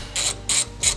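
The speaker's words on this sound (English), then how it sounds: "With our 13mm socket, we're going to remove these 2 bolts" A ratchet with a 13mm socket loosens bolts during installation of an intake system on a BMW G87 M2, three quick crisp clicking bursts in even rhythm, close and clear.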